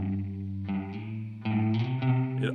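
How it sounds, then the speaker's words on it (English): Electric guitar chords through a shimmering chorus effect, with a short slapback-like echo, three strummed chords ringing out with no voices. "then it almost sounds like a slapback delay, or even like a little bit of a spring reverb"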